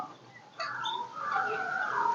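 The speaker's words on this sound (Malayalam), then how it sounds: "അവിടെ ഒരുപാടുണ്ട് തത്തകൾ എല്ലാം കൊമ്പിൻ്റെ മുകളിലൊക്കെ ഇരിക്കുക" Parrots perched on tree branches at Udayagiri Fort give a run of bright, squawky chirps and calls, starting after a brief quiet moment and continuing at moderate distance.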